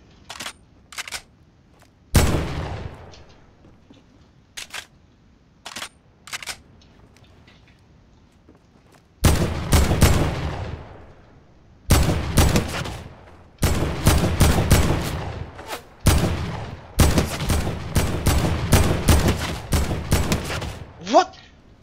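Fortnite gunfire: scattered single shots early, then dense bursts of rapid cracks in clusters through the second half, loud and close with no talk over them.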